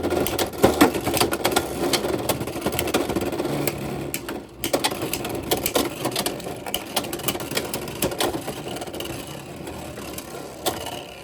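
Beyblade X spinning tops launched into a stadium and battling, with sharp metallic clacks and rattling collisions scattered through a steady whirring scrape, loud and close throughout.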